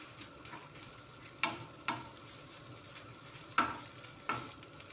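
Hotdogs frying in a pan, a faint steady sizzle under four sharp clinks or scrapes of a utensil against the pan, spaced a second or two apart, with no talk.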